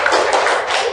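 A school class applauds together in a short burst of dense, loud clapping.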